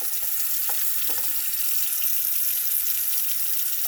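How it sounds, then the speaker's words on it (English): A kitchen sink filling from the tap, water streaming steadily into the basin in a continuous hiss and splash with a few brief clinks near the start, close by and alone. "I'm gonna start filling the sink up with water"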